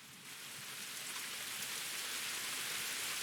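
Rain rises into a steady, hissing downpour with a broad wash of drops on surfaces, fairly faint at first and growing slightly louder, with no talk over it.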